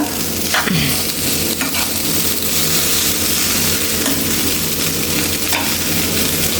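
Strained, cooked vermicelli is tossed and mixed in a hot pan, making a continuous close sizzle with a few scraping stir strokes and no talking.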